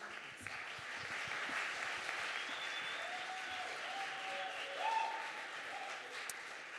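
An audience applauds steadily after a speaker finishes at an eloquence contest final, dense sustained clapping at moderate distance that carries evenly throughout.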